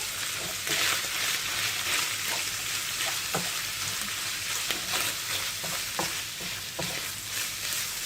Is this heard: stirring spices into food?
yes